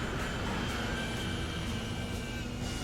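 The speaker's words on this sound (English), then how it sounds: "Oh, plane." In GTA 5, an airplane drones steadily overhead, a broad constant engine roar with a faint high whine, at moderate distance and without voices.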